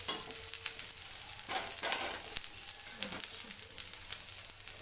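Okra (bendekayi) fries in a pan with cumin, giving a steady, faint oily sizzle with light stirring scrapes scattered throughout and no talking.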